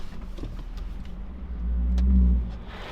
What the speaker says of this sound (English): it's waxing the car